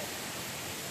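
Chandranagar waterfall roars as a dense, constant broadband rush of falling water, steady and enveloping through a brief moment, with no voices over it.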